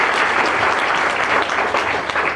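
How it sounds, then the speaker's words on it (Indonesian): A church congregation claps loudly and steadily during a Christian sermon on the Kingdom of God, a dense, even wash of hands with no speech over it. "Kasih tepuk tangan dulu yang berbeda."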